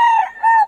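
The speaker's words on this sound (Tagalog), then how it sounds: "Ito yung mga manok niya." Two short loud rooster crows close by, each a strained, harmonic call, from a stock of fighting roosters offered for sale at a market in Bocaue, Philippines.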